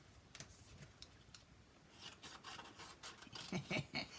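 Scissors cut paper in soft, quick snips, faint and close, with light rubbing and handling sounds around them.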